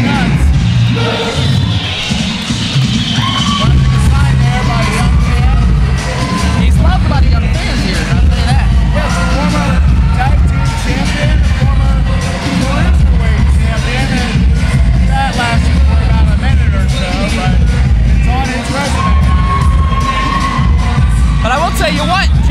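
Wrestling crowd at an RWA Fury 3 event cheering for Jimmy Nuts, a loud, sustained roar of voices, whoops and bangs filling the arena, with commentators talking over it.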